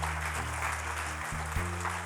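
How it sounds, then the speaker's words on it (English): An audience at a corporate keynote address applauds in a continuous, even wash of clapping, with sustained tones underneath. "Shall we give them a round of applause because they are here?"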